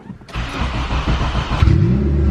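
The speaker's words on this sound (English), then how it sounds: "So we're just gonna do a dyno pull and see if Vtec's working now" Turbocharged Honda B16 engine on a dyno, which fires up and rises into a loud, sustained rev as the pull begins, close and strong throughout.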